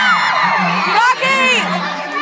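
A concert crowd shouts and whoops loudly up close, many overlapping high-pitched voices cheering continuously without a break.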